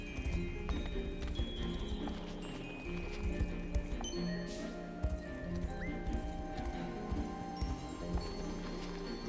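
A horse gallops in the fantasy video game Unicorn Overlord, with rapid clip-clop hoofbeats blended into dense game music and ambient effects, steady and continuous throughout.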